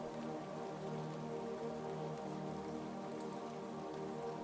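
Steady rain falls on a forest lake, an even, dense patter that continues unbroken with no other sounds.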